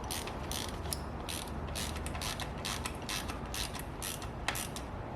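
Rapid ratchet clicking in steady bursts as bolts are tightened down on a Honda engine during an oil leak repair, close and continuous with sharp metallic ticks over a busy mechanical background.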